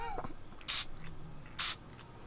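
Two short hissing bursts of spray, about a second apart, loud and close, over a quiet room with faint background murmur.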